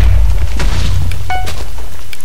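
A bomb detonates in a Minecraft Bomberman-style game, a loud deep boom that swells at once and rumbles low for a couple of seconds, with no talk over it.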